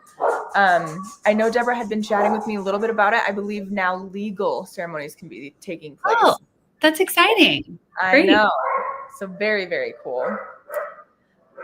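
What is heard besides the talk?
dogs barking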